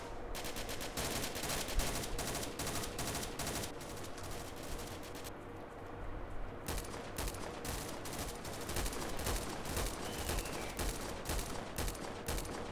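Rapid automatic gunfire from the mobile shooter KUBOOM rattles almost without pause, dense bursts of shots with a short lull midway before the firing resumes, loud and close.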